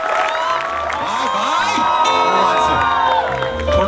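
A crowd at a Gujarati dayro folk music event cheers and whoops loudly, with shouts layered over continuous crowd noise and music throughout.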